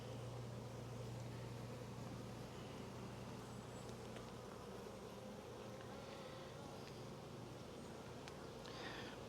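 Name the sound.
swarm of honey bees buzzing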